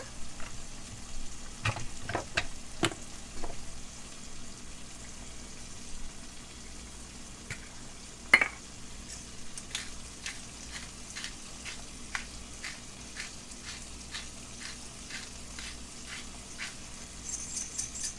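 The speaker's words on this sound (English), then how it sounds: "So I'm gonna let this cook a little bit, just so the onion can get a little bit cooked" Onions cooking in a pan for shepherd's pie, with a soft, steady frying crackle running through and scattered sharper pops and ticks, and one louder clack near the middle.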